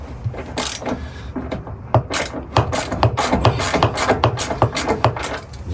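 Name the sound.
ratchet removing M8 bolts from Ford Transit bulkhead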